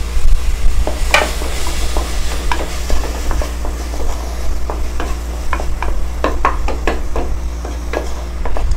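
Tomato and curry leaves sizzle in a hot pan as a spoon scrapes and stirs them in repeated sharp knocks over a steady frying hiss, all close and loud with no talking.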